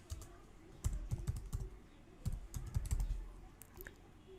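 Quick bursts of keystrokes on a computer keyboard as a domain name is entered, soft and close, in two or three short runs separated by pauses, with no talking.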